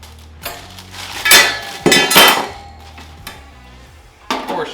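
Metal clunks and clicks come from the grease catcher locks on a stainless Monument Grills G22 tabletop gas grill being unlocked, with a few distinct rattling knocks up close and quiet gaps between them.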